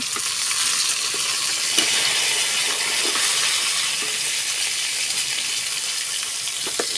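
Fish fries in a pan on the stove and gets turned over. A steady, bright sizzle of hot oil runs throughout, broken by a few soft clinks and scrapes of the flip.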